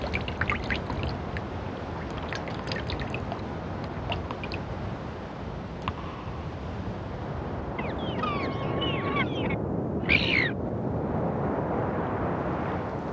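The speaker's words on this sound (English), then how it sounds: "Dripping water measures the fleeting season, the sound of summer ticking away." Arctic meltwater drips and trickles in a steady, rushing wash of water, with scattered small clicks and drips early on and no voices.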